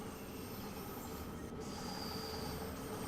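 A London Underground train in Train Sim World 2 rumbles along steadily at Harrow & Wealdstone, a continuous broad roar with a faint high wheel squeal, with no voices.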